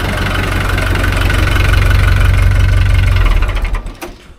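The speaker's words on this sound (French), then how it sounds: "On va essayer de couper le tracteur, on verra bien s'il redémarre." A broken-down tractor engine idles steadily with a low, knocking rumble, then cuts out and sputters to a stop near the end.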